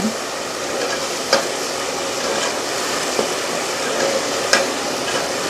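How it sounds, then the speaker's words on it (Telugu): A spoon stirs biryani ingredients frying in a pan, giving a steady close sizzle with a few scraping knocks against the metal and no voices. "చూసారా ఇలా కలుపుకోవాలి బాగా ఇది బాగా వేగితే"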